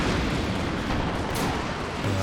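Werfer rocket artillery strike in Company of Heroes 2, a dense, continuous roar of explosions and blasts rumbling loudly throughout a short burst of battlefield noise.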